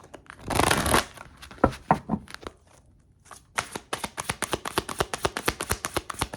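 Tarot cards being shuffled by hand, with a dense riffle burst followed by scattered taps, a short pause, and then a quick run of crisp, even card flicks close up. No one speaks.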